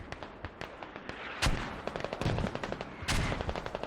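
Mortar fire and gunfire in the video game Squad: rapid cracking shots rattle in bursts, broken by two heavier booming blasts, loud and close.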